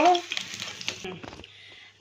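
Oil left over from frying fish heads sizzles loudly as food goes in, then fades to a softer crackle with a few stirring clatters.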